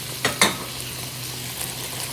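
Ketchup and oyster sauce sizzle softly in a pan, a faint steady hiss over low hum, with a couple of brief clinks or stirring scrapes near the start.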